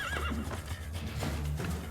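A horse in the Assassin's Creed II video game lets out a loud, shrill whinny during a fight, with game sound effects and hoof clatter underneath.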